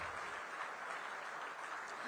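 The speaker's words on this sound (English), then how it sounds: "Everyone, please give a thundering round of applause." Faint, distant applause from the audience at a joint business session in Odisha fills the room as an even, continuous patter of many hands, with no talk over it.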